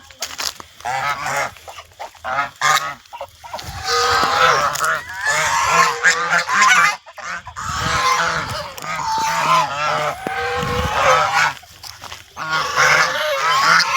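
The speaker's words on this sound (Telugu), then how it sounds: "చూడండి ఎంత అద్భుతమైన బాతులు ఉన్నాయి చూడండి" A flock of ducks in Palakonda, Srikakulam district, gives loud, repeated nasal honks and quacks that overlap in bursts, close by and nearly continuous.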